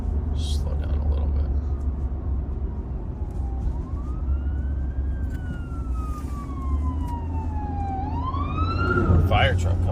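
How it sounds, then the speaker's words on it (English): An ambulance siren wails and sweeps in pitch as it passes on a road, heard from inside a moving car over steady low engine and road rumble, with a second siren rising near the end. "We have an ambulance coming."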